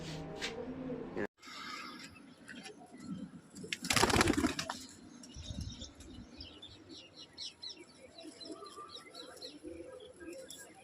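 Racing pigeons coo and chirp softly around a rooftop in Amritsar after a flying contest, with a burst of fluttering wings partway through and faint background noise.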